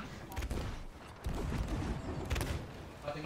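Gunshots ring out in a pirate ship battle video game, with rough bursts of firing and clatter in a noisy, busy mix, and voices faintly underneath.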